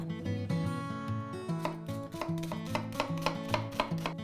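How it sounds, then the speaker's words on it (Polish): Rhythmic knife taps on a cutting board as onion and garlic are chopped, quickening toward the end, with music playing underneath. "zaczynamy od pokrojenia cebuli, czosnku"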